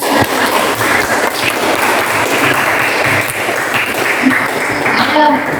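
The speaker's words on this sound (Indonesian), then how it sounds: "Ayo tepuk tangan." Students in a classroom lesson applaud steadily for the full stretch, a dense continuous clatter of hands with some voices mixed in.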